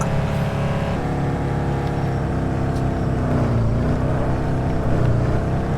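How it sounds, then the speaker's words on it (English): A continuous droning engine hum with shifting pitch runs steadily throughout, loud and close, a car motor revving in the game Car for Sale Simulator. "The engine noises in this game are so freaking annoying and not very good at all."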